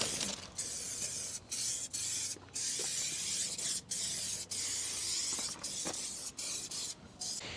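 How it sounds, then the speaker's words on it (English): Silicone spray hissing from an aerosol can onto the rubber door seals of a van being readied for a -40°C Arctic winter, in about a dozen loud close bursts separated by short pauses. "spray some silicone spray on the rubber seals of the doors for the van"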